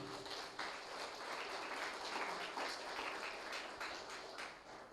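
Sustained applause from an audience at an Islamic boarding school graduation ceremony, steady dense clapping filling the whole stretch with no one speaking over it.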